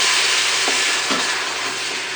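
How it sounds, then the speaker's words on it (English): Beer is poured into a hot Instant Pot while browned beef stew bits are scraped from the bottom with a wooden spatula, a loud dense sizzle and hiss with a couple of brief scraping strokes. "we're going to deglaze the pan"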